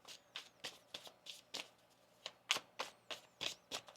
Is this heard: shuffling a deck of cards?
yes